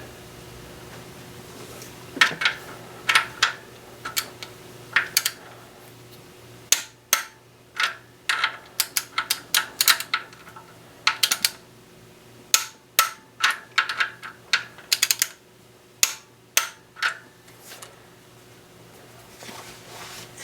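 A torque wrench tightening engine bolts to 15 foot-pounds on a 2004 BMW 325xi during a VANOS install and engine rebuild, heard as a series of close, sharp metallic clicks and ratchet ticks, irregular and fairly dense, with no talking.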